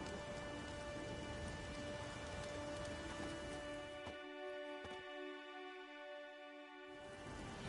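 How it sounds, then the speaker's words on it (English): Steady rain falls in The Witcher 3 video game, a constant hiss that thins out partway through while a faint background tone carries on, with no speech over it. "There's no point standing here in the rain."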